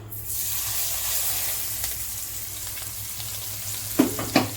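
Hot sesame and groundnut oil, about 25 ml of each heated in a small tempering ladle, sizzles as it is poured into coriander leaf pickle, a steady close frying hiss with a couple of clinks near the end.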